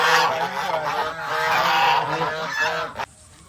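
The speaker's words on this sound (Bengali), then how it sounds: "বোকা মানে একটা চাইনিজ হাঁস না ইন্দোনেশিয়ান হাঁস" Honking calls from a Chinese or Indonesian duck at an eco resort, a steady run of loud, close, nasal cries that cut off abruptly near the end.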